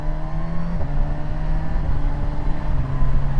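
A four-cylinder Kawasaki Versys 1100 motorcycle riding under steady engine drone, with one brief quick-shifter gear change that dips the tone, then a continuous loud hum.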